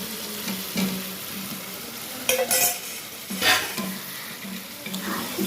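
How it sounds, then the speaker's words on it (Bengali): Potatoes fry loudly in spiced oil in a pan, giving a bright, continuous crackling sizzle broken by a couple of louder stirring bursts, with no talking. "এই আলুগুলো ভাজা হচ্ছে"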